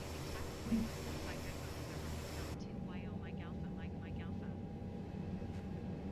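ATR 72 turboprop engines in Microsoft Flight Simulator 2020 give a steady, broad droning hum that carries through the whole stretch, with a voice faintly audible over it in the second half.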